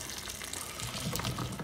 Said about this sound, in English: I am going to be straining some of that water out